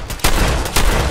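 A jamming gun fires in a short, loud, rough burst of shots, with two heavy bursts crackling close and dense and no talk.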